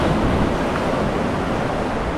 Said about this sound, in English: First lot of waves I've seen.